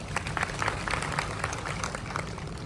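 Audience members at a live charity event break into applause, a moderate, dense patter of many clapping hands with irregular louder bursts, continuing steadily across the moment.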